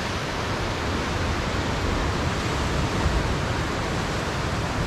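A waterfall near a shoreline walking trail by a log cabin pours as a steady, dense rush of water, constant and fairly loud throughout, with no voices.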